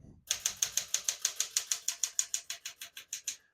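Keys strike rapidly on a 1971 Smith-Corona Super Sterling portable typewriter, about twenty crisp, evenly spaced clacks in a steady rhythm, close and clear after a brief soft thump at the start.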